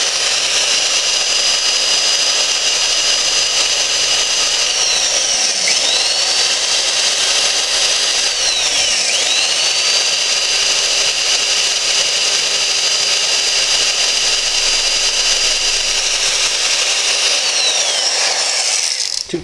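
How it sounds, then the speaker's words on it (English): Power drill boring a pilot hole with a small bit, a steady high-pitched whine running continuously with brief dips in motor speed, close and alone. "I'm going to do a pilot hole first with a smaller bit."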